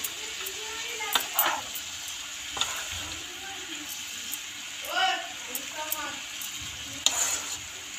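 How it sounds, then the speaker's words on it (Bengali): Salted, turmeric-coated prawns are stirred in a cooking pan with gourd, a gentle sizzle underneath scattered scrapes and clinks of a spoon, while a voice talks in bursts. "চিংড়ি মাছটা দিয়ে একটু নাড়িয়ে নেব।"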